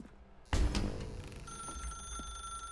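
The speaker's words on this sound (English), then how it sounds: "Now pick up the phone." An old-style telephone rings in The Stanley Parable, a sudden loud electronic ring with a steady high tone that holds after the first burst, heard clearly and alone in a quiet game room.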